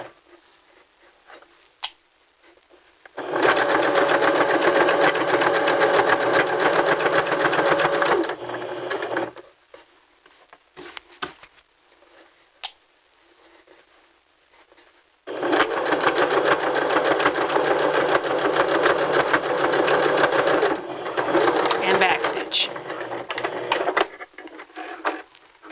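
A sewing machine stitches a double folded hem in two long continuous runs, steady and close, separated by a quieter pause with small handling noises.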